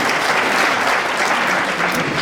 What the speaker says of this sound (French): là vous pourriez applaudir toutes ces mères de famille quand même